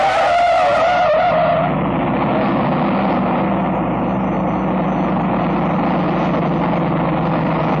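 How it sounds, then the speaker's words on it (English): A sustained, loud tire squeal from a car starting on a steep hill grade, pitched and steady for several seconds with the engine roaring underneath, close and continuous. "That tire squeal?"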